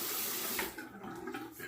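Tap water runs steadily into a sink as a Hoffritz slant razor is rinsed, a faint, continuous splashing stream that shifts slightly as the blade passes through it.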